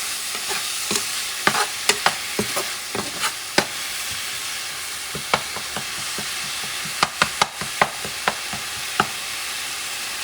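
Spoon stirring through chickpea stew ingredients in a pot for Puerto Rican garbanzos guisados, with repeated sharp scraping and clinking strokes over a low steady sizzle, close and fairly loud, no talking.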